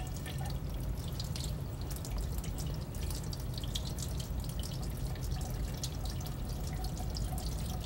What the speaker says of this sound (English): Wash the sample back and forth across the sieve until as much as the clay is washed through as possible.